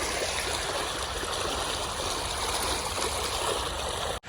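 Water gushes from a tubewell outlet into a farm field, a continuous, close rushing and gurgling flow that holds steady throughout.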